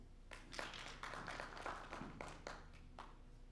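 An audience at a climate change reporting pre-training workshop for members of the Kenya Editors Guild gives a short round of scattered clapping lasting a few seconds, with faint murmuring mixed in.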